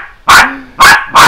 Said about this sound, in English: just check the barking and see how slowly her mouth moves.